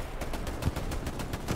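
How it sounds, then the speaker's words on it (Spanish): Rapid machine gun fire from a video game crackles in quick, evenly spaced bursts, a dense rattling string of shots that is fairly close and carries on throughout. "ametralladora"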